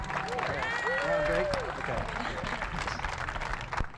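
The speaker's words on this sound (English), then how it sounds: "Round of applause for Nicklin Hames and all of these athletes one more time" Audience applause for athletes at an opening ceremony, a steady wash of clapping through the whole stretch, with crowd cheers and voices mixed in.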